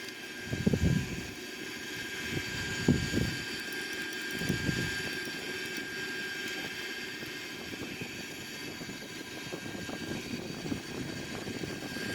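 Airbus A340 engines at increased climb thrust produce a steady, broad roar heard from inside the aircraft, with a few low thumps early on.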